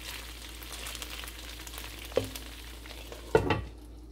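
Skewers of chicken malai tikka sizzle in a pan on a stovetop with a steady close frying hiss, broken by two sharp knocks of metal against the pan before the sizzle fades.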